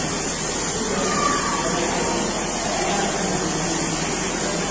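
Rainwater pours and trickles into the sanctum of the Kakatpur Mangala temple, a steady, dense rushing wash that holds at an even level throughout, with no voices over it.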